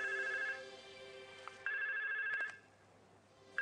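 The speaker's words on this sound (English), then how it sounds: "Extension 8007 is ringing and shows the caller ID as 8000." A MyPBX Standard IP PBX VoIP desk phone extension ringing, an electronic trill in repeating bursts with short gaps, fairly quiet and without talk.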